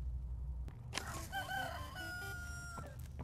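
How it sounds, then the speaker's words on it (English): A rooster crows in the video game Poppy Playtime Chapter 3, a loud, drawn-out cock-a-doodle-doo with a few clucks, heard alone over a low game ambience. "It was a chicken."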